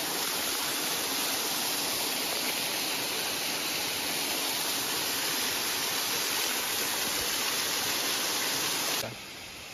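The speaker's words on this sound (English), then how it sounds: "Okay. It's a waterfall." A waterfall in the Maine wilderness roars as a loud, steady, broadband rush of falling water that fills the whole stretch and cuts off abruptly near the end.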